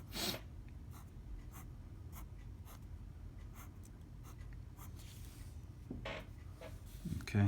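Benzene rings drawn by hand for a stereoisomer chemistry problem, with steady close scratching pen or marker strokes in a quick irregular rhythm over low background rumble.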